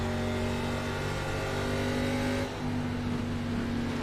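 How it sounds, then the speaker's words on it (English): An ARCA race car at Phoenix Raceway is heard from onboard, its engine droning loudly and continuously at high revs, with a brief dip partway through. "Listen to Perkins' car right here."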